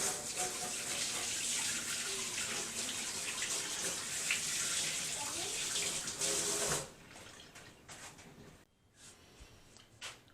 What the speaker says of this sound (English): Let me wash my grips here.